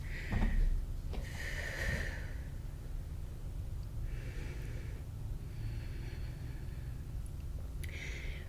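Slow, deep breathing during a yoga balance pose, several long airy inhales and exhales with gaps between them, close and soft against quiet background hiss.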